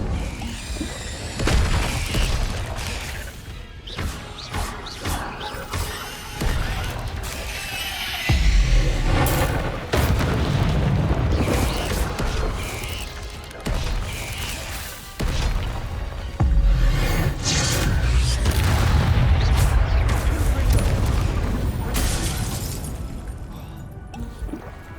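Explosive Confringo spell blasts in Hogwarts Legacy, combat in the video game, go off repeatedly as loud booming detonations with crashing, shattering debris, spaced unevenly across a long stretch of heavy battle noise.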